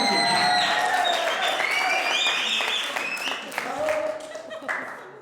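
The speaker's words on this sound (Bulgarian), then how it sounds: "аплодисменти!" An audience at a talent evening claps steadily to greet a jury member. Dense applause starts loud and slowly thins, with tonal music or voices running underneath.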